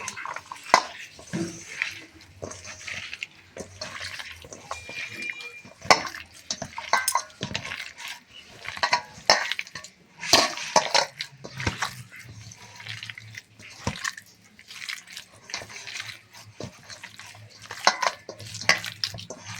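Sago pakora batter with a little salt is mixed by hand in a bowl, making a steady run of wet, squelching, pattering sounds up close with irregular soft thumps.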